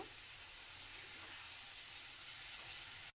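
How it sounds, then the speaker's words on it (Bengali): Spice paste fried in a pan for a Bengali tilapia and potato curry, a steady close sizzling hiss with faint stirring that cuts off abruptly at the very end. "দিয়ে মশলাটা ভালো করে কষিয়ে নেব"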